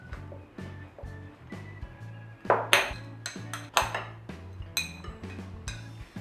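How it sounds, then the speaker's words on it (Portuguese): A knife chops chocolate on a board in a home kitchen, making a steady series of close, sharp knocks and clicks, roughly two per second, with no talking. "eu vou começar picando o chocolate então para nós poder levar pro micro-ondas e derreter."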